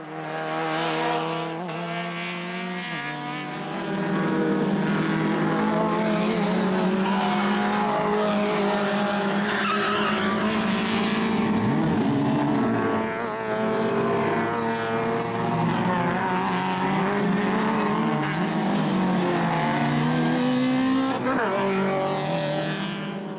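Race cars with engines up to 1600 cc on a wet circuit during qualifying, loud continuous engine roar with rising and falling revs as cars pass, steady and close throughout.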